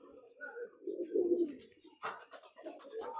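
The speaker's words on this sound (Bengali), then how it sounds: "একটা কবুতর আপনাকে দেখাইতেছি" A pigeon coos softly up close in a few low, rolling phrases, with brief faint voices and handling noises near the end.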